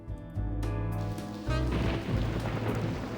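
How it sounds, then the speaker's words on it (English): Thunder rolls in deep rumbling waves over steady rain falling outside, with a heavier surge of rain noise midway through; no talk. "Is there thunder happening outside?"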